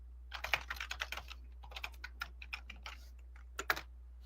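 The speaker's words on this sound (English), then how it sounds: "I'm gonna start copying and pasting it in the chat so people can know, because I'm getting tired of typing it." Typing on a computer keyboard, a quiet close run of irregular key clicks in quick bursts with a short lull midway.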